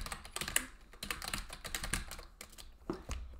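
Typing on a computer keyboard, with quick bursts of key clicks in an uneven rhythm and short pauses between flurries, close to the mic and heard alone.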